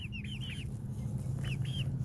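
Hens and a rooster cluck close by in short rising-falling calls, a quick run of clucks followed by a pause and two more, over a low steady background murmur.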